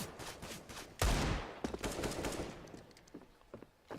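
Mag 7 shotgun fire in a CS:GO match on the Train map: one loud close blast followed by scattered fainter shots and impacts, with no voice.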